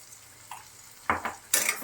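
A spoon stirs carrots and boiled green peas in a pan for a carrot and pea curry, with three short scraping strokes that grow louder, close and without talk.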